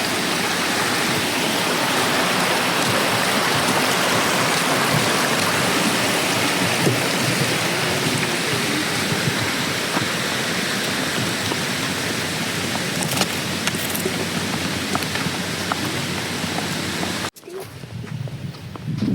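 Steady broadband rush of the Mosquito River flowing at Pictured Rocks National Lakeshore in Upper Michigan, continuous and fairly close, ending in a sudden cut to quieter ambience.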